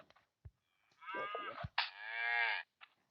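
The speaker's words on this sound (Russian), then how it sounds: "Видите, я завалил с помощью копья корову." A cow in the video game Survivalcraft lets out two long, drawn-out moos, close and clear, with a few small thuds around them, as it is killed with a spear.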